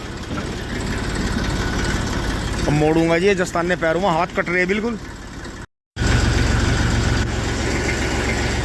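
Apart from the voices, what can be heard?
Massey 35 tractor engine running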